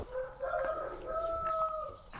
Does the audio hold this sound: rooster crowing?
yes